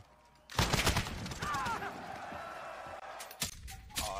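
Rapid gunfire from a gun in Call of Duty solo duo play, a loud burst breaking out after a quiet start, then continuing in sharp bursts with game effects and brief tonal cues around it.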